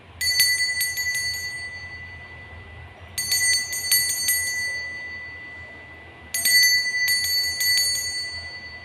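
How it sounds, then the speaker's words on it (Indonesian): Three bursts of bright bell strikes, each a quick cluster of ringing dings, spaced about three seconds apart over a quiet background. "Kita akan mulai saja dengan ditandai lonceng berbunyi."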